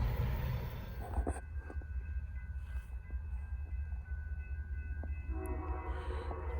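Norfolk Southern freight train P09, led by Canadian National locomotives, rumbles past on the Charlotte District with a steady low roar of wheels and cars, while the horn sounds in sustained blasts over it.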